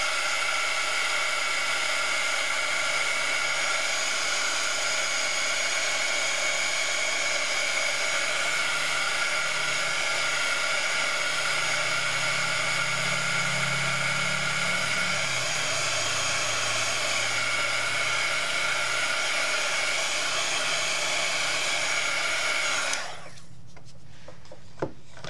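A hair dryer blows steadily on a watercolor painting, a constant loud whirring hiss lasting over twenty seconds before it cuts off abruptly, leaving near silence.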